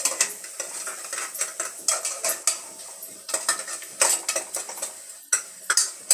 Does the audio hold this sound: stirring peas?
yes